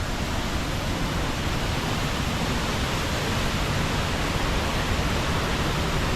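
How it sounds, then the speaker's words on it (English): Twin waterfalls of Saltos dos Hermanas on the Argentine side, heard from the top as a loud, steady, broadband roar of falling water that stays constant and unbroken throughout, with no voices. "Here we are at the top of two waterfall sisters."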